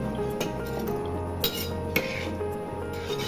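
A rice pot for Sunday biryani, just topped up with boiled water, is stirred with a utensil, giving soft scraping and a few sharp metallic clinks against the pot over a low steady background hum; no one speaks.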